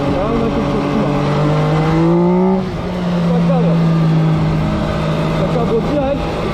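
MV Agusta Rivale 800cc three-cylinder motorcycle engine, 125 horsepower, revving with rising and falling pitch, a strong loud drone with a brief dip midway, heard from a riding position.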